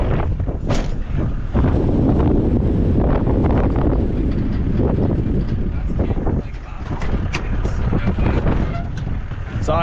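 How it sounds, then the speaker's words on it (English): Strong wind blowing across an open sheep paddock roars steadily against the microphone, buffeting loudly and nearly without pause, with a faint voice briefly under the gusts. "Oh, the wind!"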